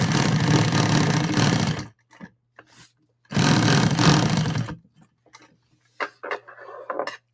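Nakajima 282L industrial sewing machine running in two loud, dense bursts of about one and a half seconds each, separated by quieter gaps holding scattered small clicks and handling knocks.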